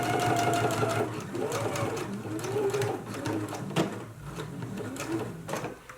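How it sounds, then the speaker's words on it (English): A sewing machine stitches fabric continuously with rapid rhythmic mechanical clatter, close and fairly loud, steady throughout. "now we can go to the sewing machine. You just want to stitch right across"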